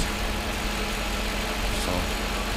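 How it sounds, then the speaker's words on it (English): A Mercedes SL500 R129 V8 idles steadily and close by after throttle actuator and idle speed work, a smooth even rumble with no voices over it. "The engine runs really, really nice now."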